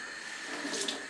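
Tap water runs steadily into a kitchen sink while onions are rinsed before cutting, a soft continuous wash with no talking.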